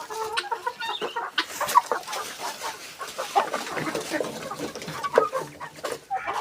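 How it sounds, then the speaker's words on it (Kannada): Chickens cluck steadily and fairly close in an outdoor farmyard where ducks are also kept, with overlapping calls and a faint voice in the background. "ಕೋಳಿ ಇದೆ"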